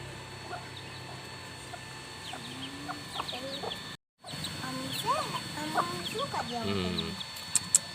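Chickens being fed in front of a house cluck and chatter close by in frequent short calls, with brief voices mixed in and a momentary dropout near the middle.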